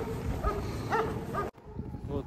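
A mixed-breed dog caged on a mink and fox fur farm whines in a few short, high-pitched cries amid a noisy background with some talking.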